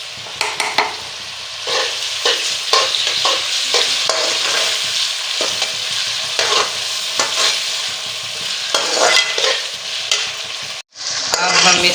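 Golden onions frying in a pan with added green chillies and tomatoes for bhindi masala sizzle steadily while a spoon stirs and scrapes, close and continuous for several seconds, with no talking.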